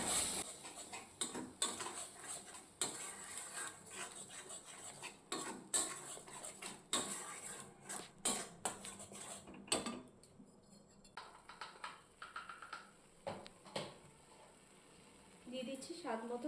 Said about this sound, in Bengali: সমস্ত মশলা একটু ভালো করে কষিয়ে নেবো